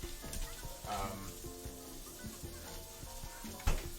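Green onions, including a slightly older bunch, and other aromatic vegetables fry in a hot pan with a steady crackling sizzle, broken by a few louder pops and a sharp clatter near the end.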